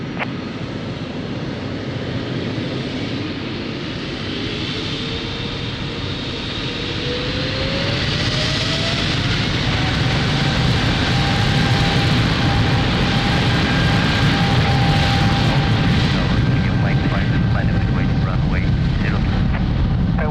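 A Delta airliner takes off from runway 02 at Lisbon Airport with a loud, close jet roar that swells partway through, as the engine whine rises in pitch and then holds steady.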